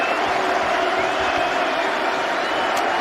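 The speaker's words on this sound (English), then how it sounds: "And what an ovation that is too from this Headingley crowd" A large Headingley cricket crowd gives a sustained ovation at a Test match, steady broad applause and cheering roaring evenly throughout, with faint commentary voices underneath.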